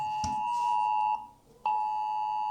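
A mobile phone emergency alert for heavy rain in Chile sounds as a loud, steady tonal alarm. It cuts off briefly partway through, then resumes at full strength, with no talking.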